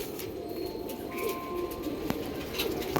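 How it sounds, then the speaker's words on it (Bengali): Domestic pigeons, including a male bird, coo softly in a low, repeated warble, with faint chirps and light background noise close by. "দেখুন নর পায়রাটা দেখুন।"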